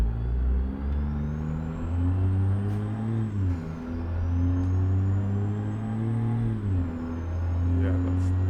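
A car engine droning steadily while driving in a video game, the pitch climbing and dropping through gear changes, loud and continuous with people talking over it.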